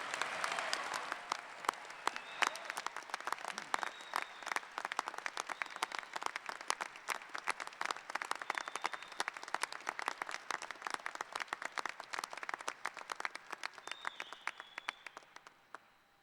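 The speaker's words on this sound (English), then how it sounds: "Please give all the master's candidates a round of applause." Applause for master's candidates at a graduate college commencement, a fairly distant, sustained crowd clapping with sharp individual claps, continuing steadily before tapering off at the end.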